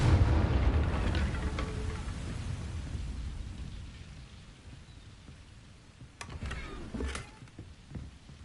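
A Confringo explosion spell cast in the video game Hogwarts Legacy, a deep rumbling blast at the start that rolls off slowly into a low fading roar, followed later by a few sharper crackling impacts.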